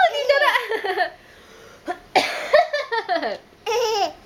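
A young child laughs and an adult coughs indoors, short bursts of vocal sound broken by pauses, with chatter between them.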